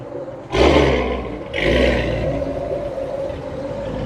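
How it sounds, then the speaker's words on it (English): A Vauxhall Monaro's deep V8 engine rumbles and roars as it's revved twice, then settles into a loud, throaty idle nearby at the Ace Cafe, London. "All manner of lovely noises. The Vauxhall Monaro here."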